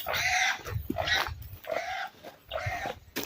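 A pig squeals loudly and repeatedly in a rural setting, giving four harsh, high-pitched cries with short gaps between them, close to the listener over low background rustling.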